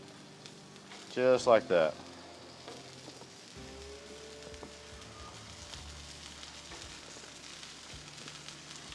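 Thinly sliced zucchini sizzles on a Blackstone griddle, a steady crackling hiss that carries on beneath someone talking.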